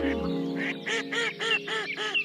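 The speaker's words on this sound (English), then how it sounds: "Quick, quick, quacked the mother duck" A cartoon duck quacks repeatedly, six or so nasal quacks in a quick steady rhythm, close and clear.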